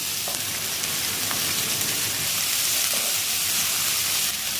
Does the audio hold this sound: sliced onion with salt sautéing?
yes